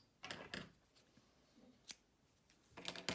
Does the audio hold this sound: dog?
no